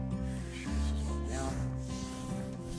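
A trowel blade spreads a thin coat of Venetian plaster, producing a close, soft continuous scraping and rubbing with one fuller swipe in the middle.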